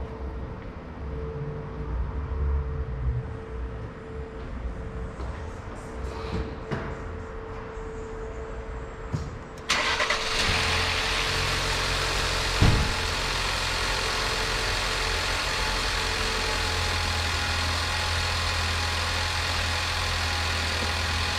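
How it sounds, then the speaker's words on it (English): A Ford Edge SUV engine cranks and catches, then settles into a steady, loud idle that continues alone for the rest of the clip, with a brief knock partway through. "I'm going to start this car up and give you an idea of what's going on."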